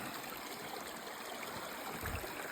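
Steady rush of water flowing through a gold sluice set up by a stream, a continuous close wash and trickle with no voices.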